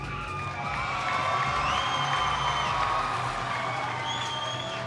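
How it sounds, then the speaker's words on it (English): Big crowd cheering, whooping and clapping at a robotics competition event in an arena, a loud sustained roar with shouts rising above it. "can you give a huge round of applause if you're in support of the Red Alliance?"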